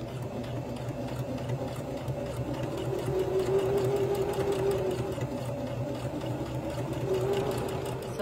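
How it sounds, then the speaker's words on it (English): A sewing machine stitches a crotch seam joining two panels of summer shorts, running steadily and continuously at close range with a constant whirring hum. "So next step is to put the two panels together and sew up the crotch here."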